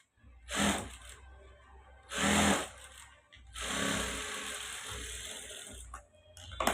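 A sewing machine stitches a blouse sleeve in three mechanical bursts of rattling runs, the first two short, the last a longer steady stretch of about two and a half seconds, with no talk.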